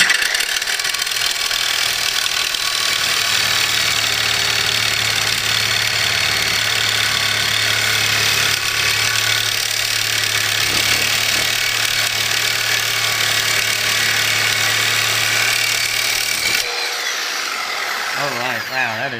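A Sawzall reciprocating saw cutting hardened steel, a loud, continuous buzzing, grinding motor whine sustained for over fifteen seconds before the cut ends and the motor winds down.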